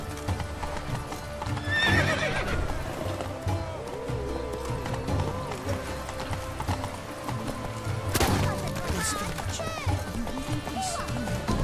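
A horse gallops with rapid, steady clip-clop hoofbeats and whinnies loudly a couple of times in The Witcher 3: Blood and Wine, with game sounds around it and someone talking over it.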